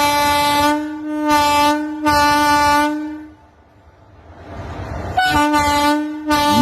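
A freight train halted beside a railway level-crossing gate in Bihar sounds its horn in loud, close, sustained blasts, with a brief quiet gap before the horn resumes in repeated bursts.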